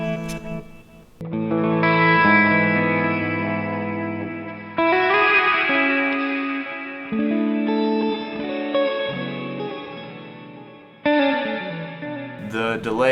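An electric guitar through a REVV amp with the delay set to reverse mode plays sustained notes and chords that swell backward and smear into washes of reverberant echo, loud and close, with abrupt note changes.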